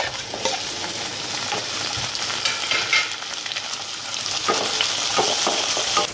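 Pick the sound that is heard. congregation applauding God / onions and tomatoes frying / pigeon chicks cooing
onions and tomatoes frying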